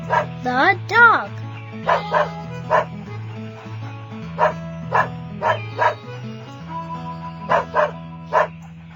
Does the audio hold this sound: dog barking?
yes